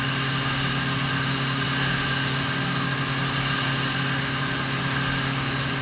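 STC Titan 6M CNC machine spindle running at maximum RPM: a constant, dense mechanical whine and hum with steady tonal lines, loud and unchanging throughout.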